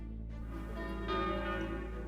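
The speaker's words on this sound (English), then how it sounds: "Listen to those wedding bells." Wedding church bells ring in a continuous, resonant peal with layered sustained tones that swell slightly partway through.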